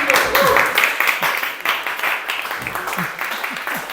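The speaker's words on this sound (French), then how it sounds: "On applaudit." Audience applauding after a talk at an event in Paris, a dense run of clapping that starts loud and tapers slightly, with some voices mixed in.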